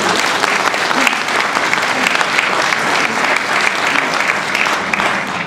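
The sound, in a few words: audience applause for the singers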